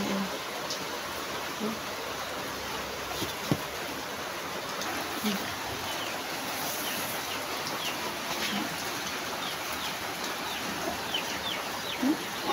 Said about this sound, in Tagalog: Yan ang mga manok na hintay na dyan kasi gutom na.